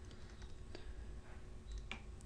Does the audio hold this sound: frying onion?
no